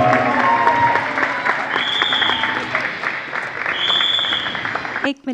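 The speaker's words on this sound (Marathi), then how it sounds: "जोरदार टाळ्या पहिले दोघांसाठी" Audience applause fills the hall, dense and sustained clapping for several seconds with a few whistle-like tones over it, cutting off abruptly at the end.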